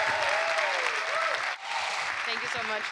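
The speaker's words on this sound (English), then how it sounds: "a great applause for the Orga team of the ISWI" Audience applause at the ISWI 2019 opening ceremony for the organising team: a steady, dense wash of clapping that fills the room, dipping briefly midway and then carrying on. A faint voice or two rises above it.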